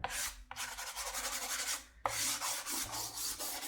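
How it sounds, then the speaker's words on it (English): A black soft pastel is rubbed over sandpaper in close, gritty scraping strokes, two long rasping passes broken by a brief pause. "I'm going to just add it over my sandpaper."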